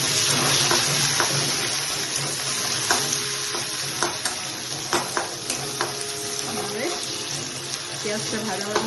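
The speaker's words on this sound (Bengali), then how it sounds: "পেঁয়াজটা ভাজা হয়ে গেল" Sliced onions with dried red chillies frying in oil and stirred in a pan: a loud, continuous sizzle with repeated scraping strokes of a spatula throughout.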